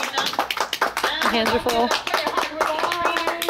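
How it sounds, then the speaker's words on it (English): An audience at a flamingo show at Ardastra Gardens in Nassau, Bahamas, claps in a brisk, scattered patter of hand claps close by, mixed with voices talking and cheering. "Let's give it up one more time. Woo! Clap, clap, clap, clap, clap, clap, clap, clap."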